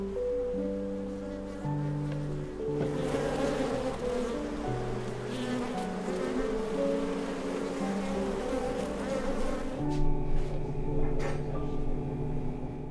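Honeybees buzz steadily nearby, a dense droning hum with overlapping pitches that swells and wavers without pause.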